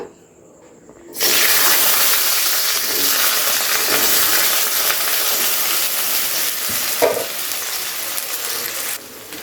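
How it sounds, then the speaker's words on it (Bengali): Potato pieces dropped into hot oil and ghee for sabudana pulao erupt after about a second into loud, steady, broadband frying sizzle that holds for the rest of the clip, with a brief crackle burst near the end. "তো প্রথমে আলুটাকে কিন্তু একটু ভেজে নিতে হবে ভালো করে।"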